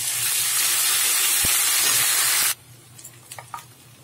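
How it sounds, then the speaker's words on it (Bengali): Ginger garlic paste sizzles in hot oil with a loud, close, bright hiss for about two and a half seconds, then cuts off to quiet, leaving a few faint clinks and scrapes. "আদা রসুন বাটাটা একটুখানি নেড়ে নিলাম তেলের মধ্যে"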